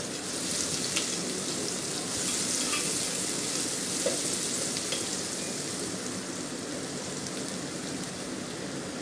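Four large chopped onions frying in hot oil, a dense, even hiss of sizzling that stays close and steady throughout with no talk.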